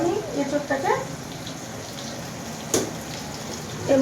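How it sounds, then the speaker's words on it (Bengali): Young jackfruit being rinsed under running water from a kitchen tap, a steady splashing flow heard up close, with a brief sharp clatter midway and someone speaking over it at the start and end. "আমি এঁচোড়টাকে ধুয়ে নেবো।"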